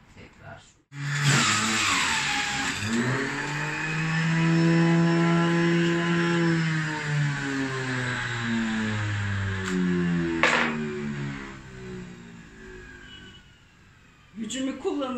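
A Karaca Maxvit juicer motor starts abruptly and runs loud and steady while it juices fruit, its pitch shifting as the load changes, with a sharp click partway through before it winds down at the end.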